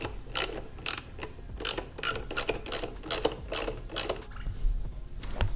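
A hand ratchet works to free a headlight ballast from its bracket on a high-powered Subaru, ticking in steady, evenly spaced close clicks throughout with no voices.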